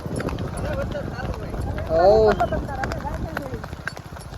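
Hooves of a mare being ridden clip-clop in a quick, irregular patter, close and fairly loud, running beneath ongoing talk that swells briefly midway.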